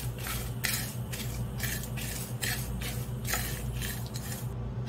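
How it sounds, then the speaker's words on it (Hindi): Sambar spices dry roasting in a pan over a medium flame, a steady close scratchy rustle broken by repeated short stirring scrapes and clinks, with no voices. "मसाले डाल के भून लेंगे। मीडियम फ्लेम पर हम इसे 1 मिनट के लिए अच्छे से भून लेंगे"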